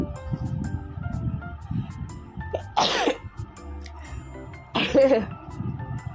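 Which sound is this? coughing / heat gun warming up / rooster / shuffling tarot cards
coughing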